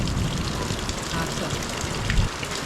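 Heavy monsoon rain pours down in a village, a dense, even hiss of drops on surfaces that stays steady and fairly faint throughout with no voices.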